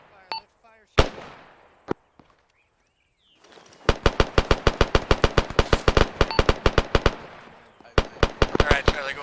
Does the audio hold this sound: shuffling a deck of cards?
no